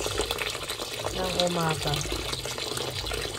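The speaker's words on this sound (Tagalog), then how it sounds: "So, ibabad natin siya sa tubig." Water runs from a tap into a container to soak rice for suman, a steady splashing fill under someone speaking.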